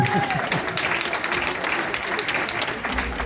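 Audience applause for a parliamentary assistant at a political gathering, steady dense clapping throughout alongside a faint voice, with a sustained broadband wash filling the room.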